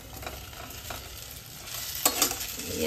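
Chicken pieces for butter garlic chicken go into a hot pan, a close sizzle with a few stirring scrapes and a brief louder burst near the end, no talking.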